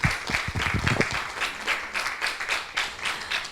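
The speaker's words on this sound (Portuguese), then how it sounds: "Uma salva de palmas para os nossos convidados" Audience applause for guests at a panel event on citizenship and social inclusion, sharp individual claps at first settling into a steady, moderately loud ovation.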